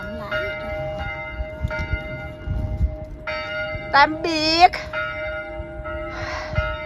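Bells ring in Iseltwald, Switzerland, near a farm where cow bells hang, sounding as steady tones behind voices speaking and a child's high squeal.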